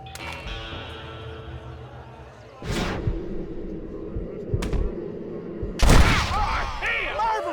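Gunfire rings out in the Red Dead Redemption western video game, with a few sharp loud bursts around the middle and end over game ambience and background music.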